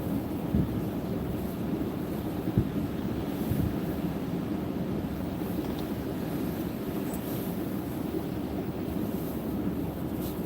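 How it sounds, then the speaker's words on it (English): Strong wind gusts buffeting a parked car during a Pacific Northwest snowstorm, a continuous low roaring rumble with occasional thumps, loud and close with no talking. "Pretty strong gusts here"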